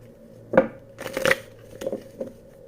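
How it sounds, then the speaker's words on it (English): A few quick riffling shuffles of a tarot card deck, soft and close, with short pauses between the bursts. "One more shuffle, please."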